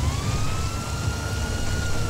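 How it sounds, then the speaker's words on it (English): Rain beginning to fall in the police game LSPD First Response: a dense, steady hiss of rainfall with a police siren wailing faintly above it. "And it's starting to rain, so we're going to be slipping and sliding everywhere."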